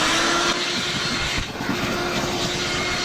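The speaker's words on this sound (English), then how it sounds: "And then I'm going to vacuum this all up" A vacuum cleaner sucks up rust and debris from the rotted steel floorboards of a Ford Taurus, a steady, loud, close whine-roar that holds for the whole stretch with only a brief dip in the middle.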